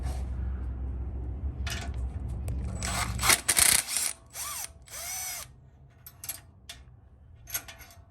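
An impact wrench with a 17 mm socket removes a large screw from a lowrider bike during a slammer install, firing a few sharp, loud rattling bursts up close, followed by lighter metallic clinks and handling sounds.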